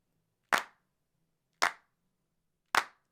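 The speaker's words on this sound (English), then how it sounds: "I want it to sound like multiple people were clapping" Three crisp, dry bursts of layered hand claps for a music production, evenly spaced about a second apart, each sharp and close with a quick decay into silence.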